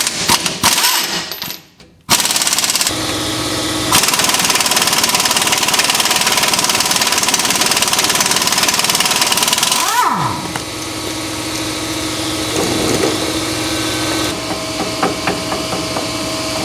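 Power tool removing U-bolt nuts while installing a Rough Country leveling kit, loud rattling impact bursts and whirring, with pauses and shifts in pitch across several runs.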